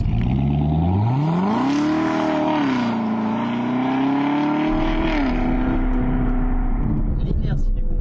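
A supercharged Corvette C7 ZR1 engine revs up strongly and holds a high, steady supercharger whine, with the pitch rising and settling; loud and close, with some talking mixed in.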